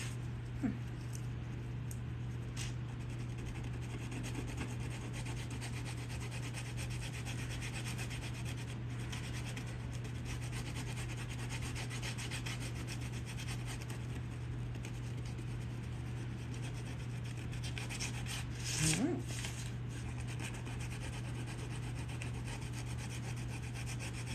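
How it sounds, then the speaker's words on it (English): Sandpaper rubs steadily over a red buffalo-skin leather clutch purse, a soft, faint, continuous rasping set against a low, steady background hum, with a slightly louder scrape near the end. "Actually, I sandpaper this too."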